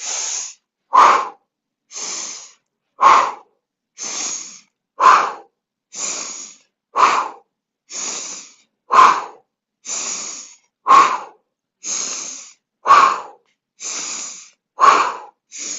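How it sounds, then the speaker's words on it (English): Forceful rhythmic pumping breaths during a Pilates swimming exercise, sharp bursts of breath pushed in and out in a steady, quick pattern, about one per second, close and loud with no talking. "Pilates swimming with a pumping breath."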